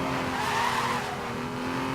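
A car in Need for Speed: Most Wanted skids, its tires squealing in a steady, loud whine for a couple of seconds with engine noise underneath.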